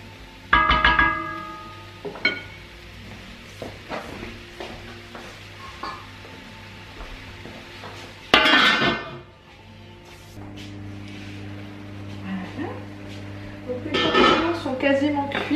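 Metal clatter of a pan lid being set back onto a pan of sautéing mushrooms, a few clanks and scrapes with soft sizzling, while a person talks nearby.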